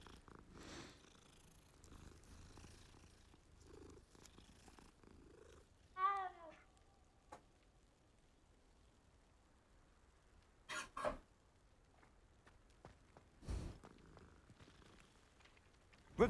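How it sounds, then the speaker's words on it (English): A cat in the Hogwarts Legacy video game purrs faintly while being petted, a quiet low rumble under sparse game sounds and a few brief louder effects. "Pet the kitty."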